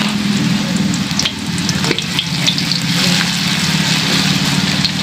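Thin squash fritters (okoy) fry in hot oil with a loud, dense, continuous crackling sizzle close by, with occasional pops and a low steady rumble beneath.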